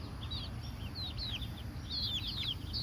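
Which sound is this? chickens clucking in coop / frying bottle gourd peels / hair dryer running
chickens clucking in coop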